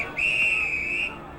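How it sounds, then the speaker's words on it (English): A referee's final whistle at a fog-affected rugby league match between Bradford and Wigan, one sustained shrill blast of about a second, clear and close over faint crowd murmur. "that's the final whistle on this match"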